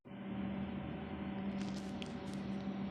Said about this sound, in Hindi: ये मिक्सर मशीन अभी चल रहा है।